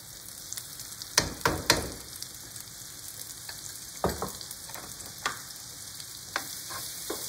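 Shallots and garlic purée sizzling in a little butter and olive oil, a close steady hiss with several sharp scrapes and clacks of a utensil stirring the pan.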